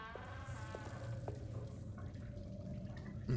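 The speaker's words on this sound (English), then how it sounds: "there's that water sound again." Water drips in the dim rooms of the video game Alone in the Dark (2024), a few sparse plinks over a low droning ambience, faint and somewhat distant.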